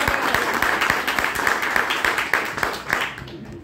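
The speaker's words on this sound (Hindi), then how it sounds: "ताली भाई ताली।" Audience applause at a seminar in Ayodhya, a dense patter of many hands clapping steadily throughout, fairly loud and close, with scattered sharper claps standing out before it thins near the end.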